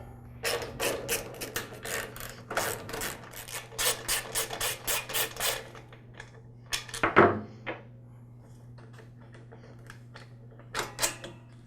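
Close, quiet clicks, scrapes and rubbing as the lower air filter base is removed from a Troy-Bilt Super Bronco tiller, arriving in bursts over a faint steady hum.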